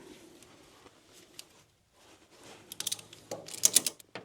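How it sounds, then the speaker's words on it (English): A ratchet strap is cranked tight around the pulley of a Deere X590 snow blower, giving sparse, faint clicks that grow into louder, quicker bursts of ratcheting near the end. No one speaks. "before I really start ratcheting on this thing was to make sure that my strap from the ratchet strap is fully engaged with the pulley"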